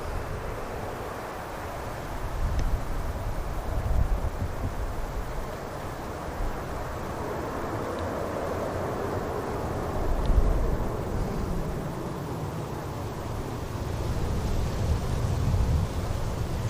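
A Norwegian Boeing 737 MAX takes off at Manchester Airport, heard as a broad, distant jet roar that swells and fades over steady wind noise, with no voices.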